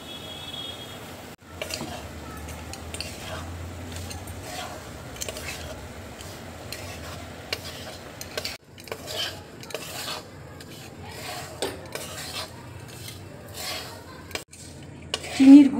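Gram flour roasted in a pan being stirred together with powdered sugar for besan barfi, a steady scraping and clinking of a spoon against the pan, close and continuous with a few louder knocks.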